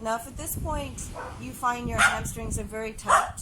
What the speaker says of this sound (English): So if you hear barking, it's because the dogs are all out.